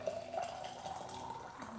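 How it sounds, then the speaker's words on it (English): Hot just-boiled water pours steadily into a cup holding squeezed lemon, a continuous splashing trickle at moderate volume from start to end. "So I'm going to turn that off and pour in the hot water."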